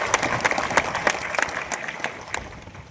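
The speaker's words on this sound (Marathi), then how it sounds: "पीडित मुलीच्या वडिलाचं आपण जोरदार टाळ्या वाजवून आभार व्यक्त केले पाहिजे।" A crowd at a Maharashtrian political rally claps in a steady patter of scattered hand claps, moderately loud and sustained for a few seconds, then tapering.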